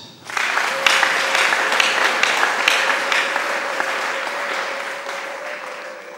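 Audience applause at an event, a sustained steady clapping that starts abruptly after a brief quiet moment and holds at an even, fairly loud level throughout, with a faint tonal hum running underneath.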